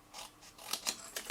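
Scissors snip through cardstock while making a Stampin' Up box, a short run of four or five crisp, close cuts spaced irregularly, with no talking.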